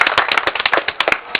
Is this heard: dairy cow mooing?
no